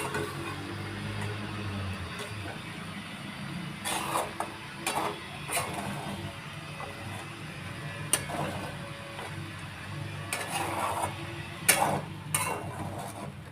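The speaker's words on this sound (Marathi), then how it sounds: "आता आपण हा बटाटा टाकून परत छान हलवून घेणार आहोत खिचडी" Sabudana khichdi with potato is stirred in a pan with a spoon, giving soft, irregular scraping and tapping clicks against the metal over a quiet background, with a few sharper knocks.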